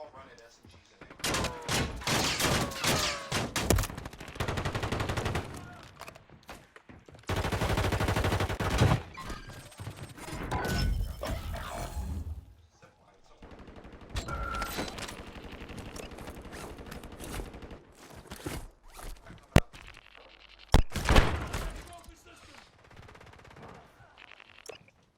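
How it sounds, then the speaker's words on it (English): Bursts of SMG gunfire in a Call of Duty Warzone Plunder match, loud rapid volleys repeating across the stretch with short gaps, some sharp single shots near the end, with players talking at times. "they're all running SMGs in there"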